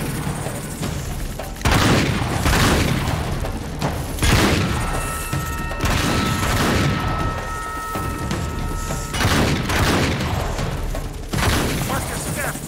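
Gunfire and heavy shotgun blasts during a firefight in Uncharted 3 form a run of loud, booming shots spaced a second or two apart, with a crackle of other weapons in between and voices speaking over the combat.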